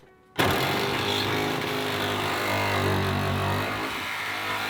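A reciprocating saw cuts a fan opening through the sheet-metal roof of a Ford Transit van, a loud, steady buzzing rasp that starts abruptly and keeps going without pause.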